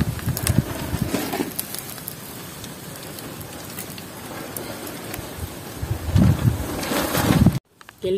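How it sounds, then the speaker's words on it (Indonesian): Strong wind blows outdoors beside a river where fish is being grilled, a steady rushing noise with louder gusts near the start and the end. "Anginnya kencang sekali."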